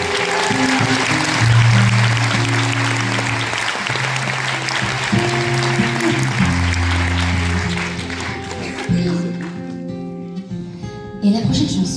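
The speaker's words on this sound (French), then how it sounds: "Un tonnerre d'applaudissements pour la vie" Concert audience clapping and cheering after a song, a loud sustained wash of applause over sustained music tones, gradually thinning out toward the end with a few scattered claps.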